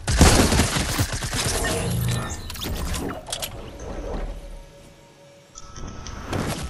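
Fortnite gunfire crackles in dense bursts, loud and close in the first half, with a sliding mechanical sweep and a quieter pause before the shooting resumes.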